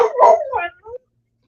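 A puppy gives a short, close vocal burst, a yelp-like bark that rises and then trails off in a brief whine, heard alone in under a second.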